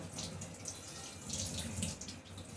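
A child washing plates under running water: a continuous soft splash and trickle with small clinks and drips, close but fairly quiet, no voices.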